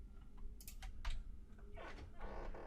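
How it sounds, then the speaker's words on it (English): A few short bursts of keystrokes on a computer keyboard over a low room hum, close and quiet, no voices. "let's type in dentist here"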